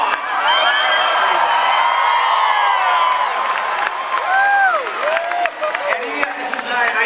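A large crowd at a convention panel cheers, screams and whoops loudly and keeps it up without a break. Shrill individual shrieks and whistles rise above the roar, and there is some clapping and shouted voices.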